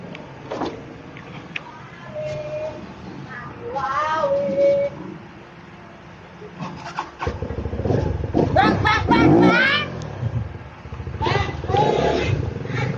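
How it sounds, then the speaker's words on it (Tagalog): A Rusi Flash 150x Fi motorcycle on a test drive, its engine rising and falling in revs close by, with someone talking over the engine at times. "i-test drive natin yung motor na to, Rossi 150X."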